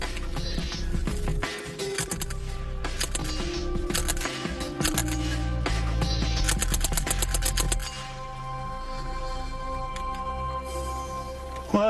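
Suppressed Mark II Sten submachine gun firing rapid bursts, bullets striking a steel plate with sharp repeated metallic clatter, loudest in a dense burst before the ringing fades into quiet.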